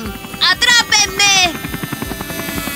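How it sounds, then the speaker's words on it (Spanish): A cartoon helicopter comes in to land with a buzzing rotor hum. Voiced, animated-sounding vocal bursts sit over it early on, and soft rhythmic pulses continue underneath. "Robots, coches, es hora de que el helicóptero aterrice."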